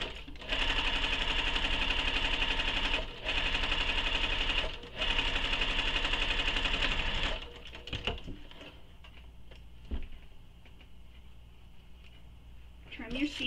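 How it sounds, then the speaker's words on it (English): A home sewing machine stitches steadily across the bottom edge of a fabric sling pack, running loud and close in long bursts with brief pauses, then stopping into quieter handling sounds near the end. "now I'll sew across that bottom edge as well using the seam allowance given in the pattern"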